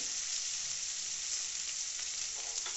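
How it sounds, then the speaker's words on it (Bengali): Rohu fish cooking in mustard paste, a constant bright sizzle of frying held at an even level throughout, close and unbroken. "দেখতে পাচ্ছেন সর্ষে বাটা দিয়ে রুই মাছ হচ্ছে।"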